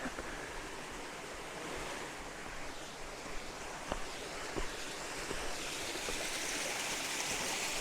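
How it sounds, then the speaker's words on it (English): Steady rushing water from a small waterfall on a hiking trail between Monterosso and Vernazza in Cinque Terre, Italy, fills the scene continuously with a faint breezy hiss and a few soft knocks. "can hear water. It's like there's a little fall down here."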